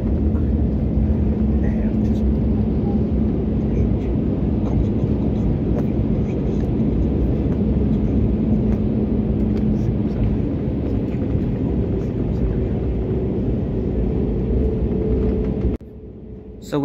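Loud, steady low roar of an Easyjet Airbus A320neo airplane landing, broadband rumble and cabin noise holding throughout, then a sudden drop near the end.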